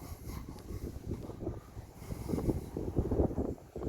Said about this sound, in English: A bit windy.